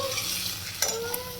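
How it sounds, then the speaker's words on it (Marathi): Onion sautés in a pan for chicken masala, a steady hiss of sizzling oil with a couple of brief scraping stirs, close and moderately quiet. "कांदा चांगला ब्राऊन होईपर्यंत आपल्याला परतून घ्यायचा आहे."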